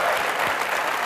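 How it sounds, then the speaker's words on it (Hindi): A brief, dense burst of studio audience applause on a comedy talk show: a loud, even wash of many hands clapping together. "ठोको ताली।"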